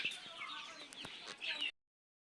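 Newly brought native hens in a backyard compound coop give soft, faint, repeated clucking for under two seconds, with no clear talking.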